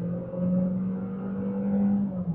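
A Jeep Renegade Trailhawk 1.3 turbo engine pulls under hard acceleration, heard from inside the cabin as a steady, moderately loud drone that builds gently over a couple of seconds, with no voices.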